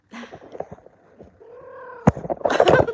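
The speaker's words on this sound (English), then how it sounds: "I mean, the cat's going crazy, if I can show you." A cat in a home meows agitatedly, with a drawn-out cry and a few short, louder yowls and scuffling noises close by.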